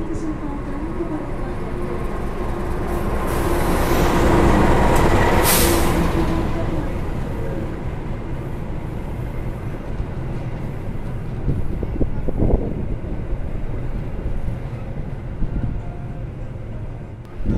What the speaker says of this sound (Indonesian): rangkaian kereta api Argo Dwi Pangga kelihatan kinclong banget. Ini udah dipersiapkan masuk di jalur 3